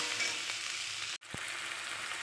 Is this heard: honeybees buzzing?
no